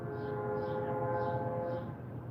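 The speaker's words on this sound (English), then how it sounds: "Ooh, a train's coming, so you can get that wonderful ASMR behind me." A train rolls by about two blocks away, sounding a long steady horn tone over a low continuous rail rumble, moderately faint and heard alone.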